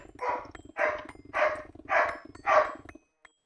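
A dog barks five times in a steady rhythm, each bark loud and close, then stops, with a low hum underneath throughout.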